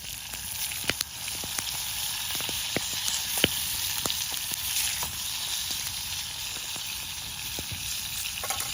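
Steak and gravy sizzle steadily in a pan at a cold mountain campsite, a loud continuous frying hiss with scattered sharp pops and crackles throughout.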